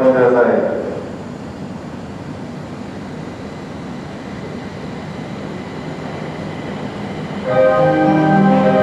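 A JR 701 series train idles at a platform at Yokote Station, Japan, with a low rumbling hum, and a loud Japanese station announcement voice comes in over it at the start and end.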